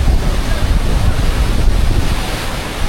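Sea waves roll continuously onto Tajpur beach, a loud, close wash of surf heavily mixed with gusting wind buffeting the microphone.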